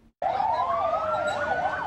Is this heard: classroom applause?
no